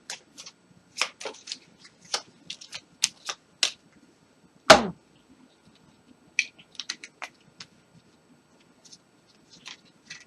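Tarot cards are shuffled for a horoscope reading, giving a string of crisp, close riffling and tapping clicks in uneven bursts with brief pauses and one sharper slap midway.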